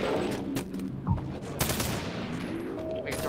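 Gunfire in the video game Halo 3, a few sharp shots and short bursts over a busy, loud game soundscape with no voices.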